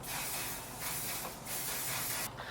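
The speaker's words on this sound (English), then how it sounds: "I'm going to take the One Size setting spray and just spray my face." Bursts of One Size setting spray mist onto a face, a steady close hiss broken by brief pauses.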